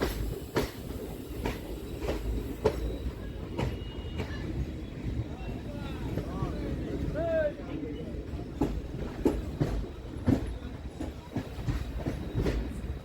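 The Puri Jagannath Express, a passenger train, runs on rails between Shalimar and Santragachi with a rhythmic clickety-clack of wheels over joints and steady rumble inside the carriage, while people talk quietly nearby.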